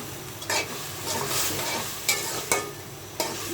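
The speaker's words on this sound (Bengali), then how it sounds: "ভালোভাবে কষিয়ে নিচ্ছি" Taro greens curry with lentils is sautéed in a pan, a constant thick sizzle broken by several sharp stirring knocks and scrapes spaced irregularly through the clip.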